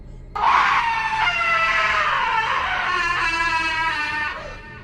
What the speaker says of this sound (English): a second scream was let loose with even more force than the first